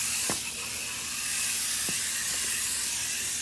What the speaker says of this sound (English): And I'm gonna spray the bike down just to get it going good.